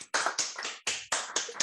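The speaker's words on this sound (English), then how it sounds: "let's all unmute and do a clap." Participants on an unmuted video call clap together, a handful of sharp uneven bursts in quick succession, close and clear with no talk over them.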